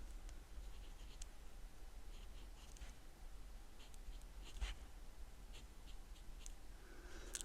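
A pen writes a word on paper for a scrapbooking card, giving a faint, steady scratching with small ticks and strokes over a quiet background hiss.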